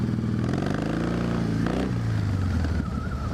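A big group of Harley-Davidson motorcycles, with a few Triumphs, rumbles through a tunnel. Deep engine roar and revving echo off the walls, one bike's pitch rises and falls as it passes, and the loud sound holds steady throughout.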